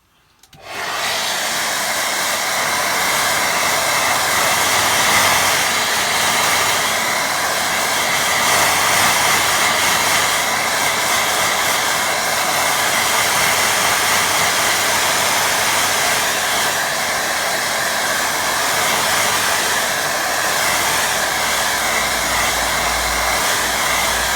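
A hair dryer blows steadily on a watercolour woodland painting, a loud, continuous whooshing roar that starts abruptly and holds at an even level throughout with no talking.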